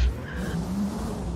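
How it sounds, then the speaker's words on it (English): A boosted V8 drift car in a video game, engine roaring loud and close while the tires squeal in a sustained skid, with no voices over it. "Welcome to a boosted V8."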